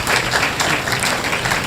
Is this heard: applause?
yes